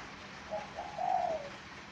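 A spotted dove coos once, a soft low rolling call rising then settling, fairly close against a quiet background.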